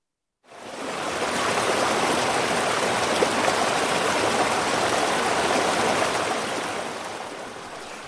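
Brook setting on an Ecotones ASM1002 sound and sleep machine: a steady rushing, burbling stream that fades in after a brief silence and holds a constant level.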